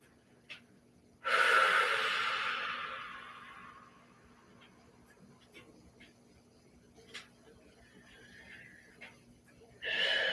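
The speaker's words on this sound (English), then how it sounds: "Breathing in through your nose and then out as if you're blowing bubbles through a straw." A person breathes in through the nose and out through pursed lips during a corrective stretching exercise, with one long airy exhale near the start, a few faint soft breaths in between, and another breath at the end.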